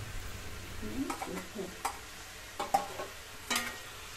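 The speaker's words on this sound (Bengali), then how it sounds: "এবার আমরা একে একে রুই মাছের মাথাগুলো দিয়ে দেবো।" Fried rohu fish heads are dropped one by one into a pot for a cabbage curry, giving soft sizzling and a few distinct clunks and knocks against the pot at close range, fairly quiet overall.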